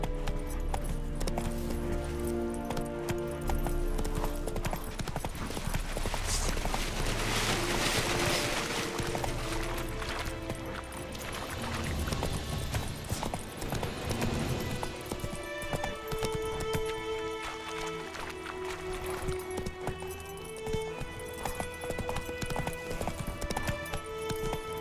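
Hoofbeats of the horse Roach galloping in The Witcher 3, a steady clip-clop running under loud layered game music and ambience, with brief bursts that could be combat noise.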